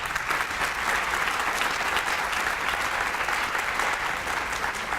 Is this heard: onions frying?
no